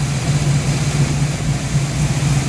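A 1972 Firebird engine with a rowdy cam idles at about 1,000 RPM, a steady low hum with a slight rhythmic throb, close by and unbroken.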